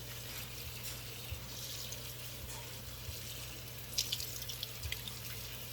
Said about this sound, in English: it's important to rinse them real good